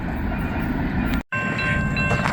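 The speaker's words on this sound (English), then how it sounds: "got a train coming here" A freight train rolls past a lowered railroad crossing gate, its steady broadband rumble and wheel clatter loud and close, with a brief dropout midway before the rolling roar resumes, no one speaking.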